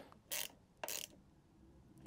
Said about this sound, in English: you can then just nick that up with a little tiny ratchet